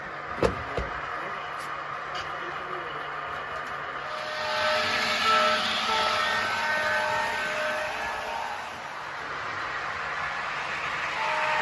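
Small electric HO-scale model train running on a layout with a whirring, rattling rumble that swells midway and steadies, preceded by a few sharp clicks, no talking.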